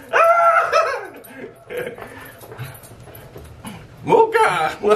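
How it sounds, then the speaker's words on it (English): A dog whimpers with high, wavering yelps and breaks into short barks, with loud bursts at the start and again near the end, while a person talks in between. "Alright, this is Mocha, that's my dog."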